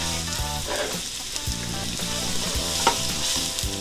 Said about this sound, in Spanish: Y los vamos a sofreír.